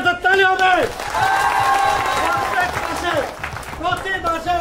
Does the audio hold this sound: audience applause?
yes